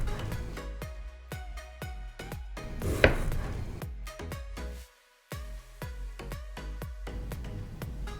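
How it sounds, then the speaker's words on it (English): Knife chopping half a medium red onion into rough chunks on a cutting board, a steady run of sharp close taps with one louder clatter and a brief pause midway. "we're going to roughly chop half of a medium red onion"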